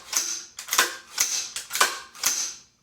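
An AR-15 charging handle is pulled back and racked five times in a steady rhythm, each a sharp metallic clack followed by a brief slide, close and alone.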